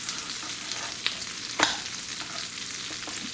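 Shrimp fry in butter with a steady, dense sizzle and hiss, marked by a couple of brief louder pops or utensil clicks, close up and with no voices.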